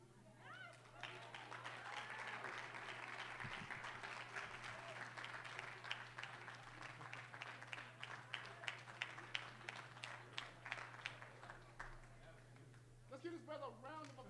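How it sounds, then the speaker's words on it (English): Sustained applause from an audience at an autism rally, dense clapping running for over ten seconds with crowd voices mixed in and sharper individual claps toward the end. "Let's give this brother a round of applause."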